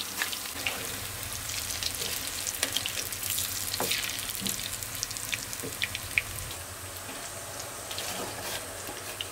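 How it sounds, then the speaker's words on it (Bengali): Cauliflower pakoras deep-frying in hot oil: a continuous close crackle and bubbling hiss, dotted with occasional sharper pops and faint clinks, steady throughout. "পাকোড়া এখন ডুবা তেলে ভেজে দিতে হবে।"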